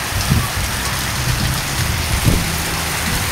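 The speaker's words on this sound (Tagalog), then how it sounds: "Lakas ng ulan ngayon dito" Heavy rain pours steadily during a dry-season April downpour without wind, a dense continuous hiss of drops with a few faint low thumps underneath, close and constant.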